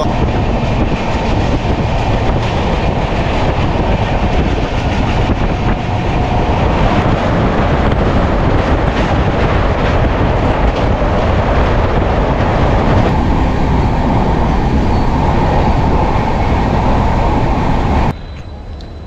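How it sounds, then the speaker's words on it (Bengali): Onboard the Rupasi Bangla Express from Santragachi to Purulia, a loud, continuous rumble of the running train with wind buffeting and rail clatter, steady for the whole stretch before dropping off abruptly at the end. "আজকে জার্নি করতে চলেছি সাঁতরাগাছি থেকে পুরুলিয়া রূপসী বাংলা এক্সপ্রেসে"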